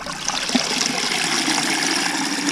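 Water drains in a steady trickling rush from a lifted bucket of muddy river dirt at Weeki Wachee. The flow is close and continuous, with no voices.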